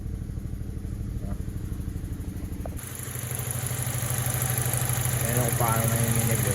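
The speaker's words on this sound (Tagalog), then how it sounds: "Tingnan natin kung gaano kapangit yung makina." A Chevrolet Malibu engine idles roughly with a cylinder misfire, a steady low throbbing rumble with uneven shaking pulses that grows slightly louder, heard close up with someone talking over it.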